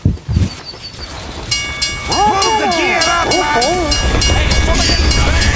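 A train rumbles past in a video game, a steady rolling clatter with high tonal lines, while a player talks over it throughout.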